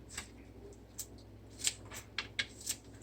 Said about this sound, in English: And you see the scissors come in handy.